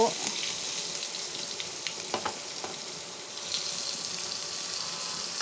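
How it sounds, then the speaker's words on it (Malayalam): Curry leaves and onion frying in hot oil for a prawn roast, a soft, steady sizzle with a few faint clinks and stirs, close and without talking. "ഇതാ പൊരിച്ച എണ്ണയ്ക്കന്നെ കറിവേപ്പിൻ്റെ ഇട്ടു സവാള ഇട്ടു"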